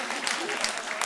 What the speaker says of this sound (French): j'arrive à voir les gens qui ont applaudi